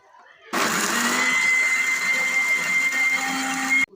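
An electric blender starts abruptly and grinds pomegranate seeds with water and sugar in one loud, steady whirring drone for about three seconds, then cuts off sharply.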